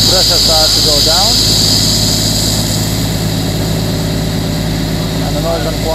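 Hydraulic flow through a hose on a Niftylift HR28/SP85 boom hisses and hums, with the bright hiss fading noticeably partway through as pressure drops, leaving a quieter low drone; someone talks over the opening and closing moments.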